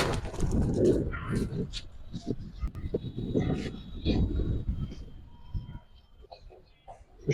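Pigeons coo and flutter in a loft of fancy breeds such as black-necked, silver, army and coloured birds, with a low, steady murmur of cooing and shuffling close by while people talk over it.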